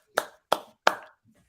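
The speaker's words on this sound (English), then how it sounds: "Clapping to everybody." Three sharp hand claps land in quick, even succession, close and crisp, with silence after.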